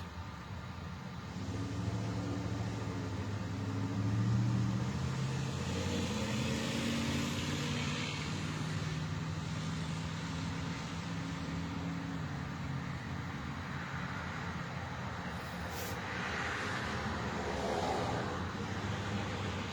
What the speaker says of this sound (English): This is the time of the night when the traffic starts slowing down too